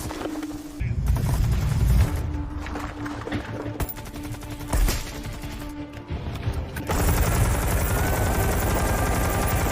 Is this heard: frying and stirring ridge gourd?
no